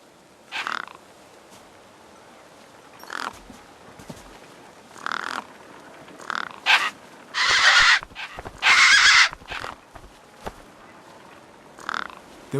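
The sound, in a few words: birds cawing in video game Beyond a Steel Sky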